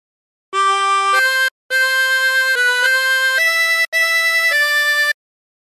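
Hark the Herald Angels Sing played on a 16-hole tremolo harmonica, a sequence of sustained, wavering blown and drawn notes in three phrases with short breaks, clear and close, no talking.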